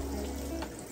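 Water mixed with dye pours into a kitchen sink after a swimsuit is dyed in a pot, a close, steady gushing splash that runs continuously.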